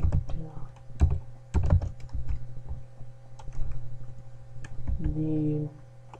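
Keys clatter on a computer keyboard as a SQL query is typed, with irregular close-up clicks and short bursts of keystrokes, and a voice is heard briefly near the end.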